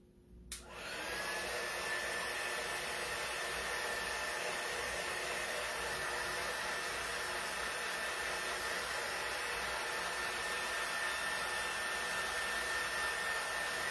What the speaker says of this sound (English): you can see how quickly the dryer dries the surface